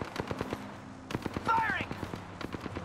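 Rapid automatic gunfire in the Apex Legends video game, dense close bursts of shots with a brief pause, while a voice speaks over the fire partway through.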